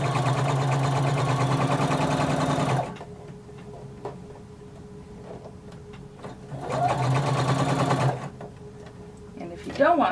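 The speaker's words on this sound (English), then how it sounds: "sewing with a 1/4 inch seam allowance, you're going to sew all the way to the top of your pants." A sewing machine stitches a 1/4 inch seam along a pants pocket on a Simplicity jumpsuit, running loud and steady for a few seconds, stopping, then running again in a second burst, close up.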